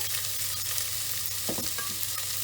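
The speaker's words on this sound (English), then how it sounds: "we're going to pop all of our carrot now and our onion into our oil" Carrot and onion sizzling steadily in hot oil over medium-low heat on a hob, a constant hiss with a few soft stirring scrapes midway.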